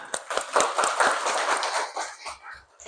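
A class of primary school children applauding in their classroom: a short burst of quick, dense, uneven hand claps that swells briefly and then thins out toward the end.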